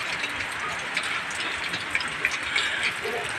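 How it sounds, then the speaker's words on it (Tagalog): Steady rain falls outdoors at a work site, a continuous soft hiss with scattered louder drops and taps on a surface, fairly faint and even throughout. "Ulan na guys."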